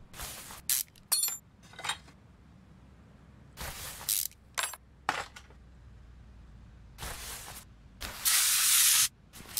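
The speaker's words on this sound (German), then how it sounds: "Ich ein bisschen sprühen hier." Spray can bursts on car parts in Car Mechanic Simulator 2021, several short hissing sprays spaced irregularly, ending with a longer sustained spray, close and alone over quiet background.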